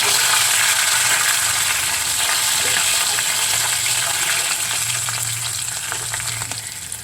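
Cumin seeds and green chillies sizzling in hot oil for a tomato chutney, a loud, close, continuous crackling fry with scattered sharp pops, easing slightly toward the end.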